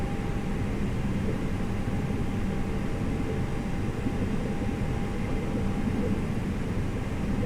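Airliner engines spooling up to takeoff thrust in Microsoft Flight Simulator while departing for San Francisco in snow, a loud, steady broadband roar with a faint tonal whine running through it, constant and uninterrupted.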